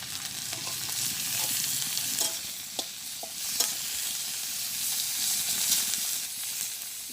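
Onions frying with turmeric and salt in a village kitchen pan, a dense steady hiss and sizzle with scattered soft scraping stirs and light clinks, close up and continuous.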